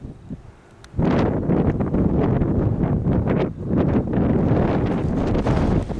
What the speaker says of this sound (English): Very windy, getting dusty with all the sand blowing up in the air.